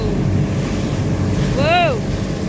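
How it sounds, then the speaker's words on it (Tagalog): Ocean waves and heavy wind buffet the microphone near the sea at Pulau Ubin, a constant rough roar with a short voice exclamation rising over it partway through. "Tignan niyo yung alon"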